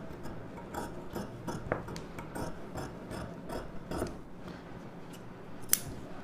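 Tailoring scissors snip through blouse fabric in a quick irregular series of crisp close cuts, each a short sharp clack and shear, with a brief louder snap near the end and no voices.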